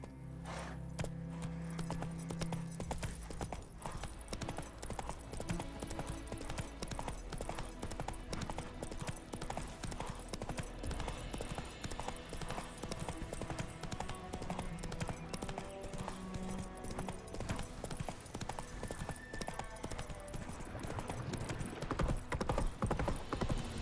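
A horse gallops in The Witcher 3 video game, its hooves beating a steady, close clip-clop rhythm for the whole stretch, layered over game music and ambience.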